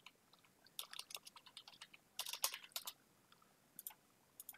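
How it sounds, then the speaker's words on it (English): Quiet keystrokes on a computer keyboard while entering a number into a web design program, coming as short irregular bursts of clicks with pauses between them. "So I'm going to type in 450 here."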